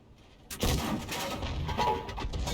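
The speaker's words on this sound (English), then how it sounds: "So these shells are actually hitting target." Artillery shells fire and burst in a tank video game: a sharp boom followed by a dense string of rumbling impacts and crackling explosions, moderately loud.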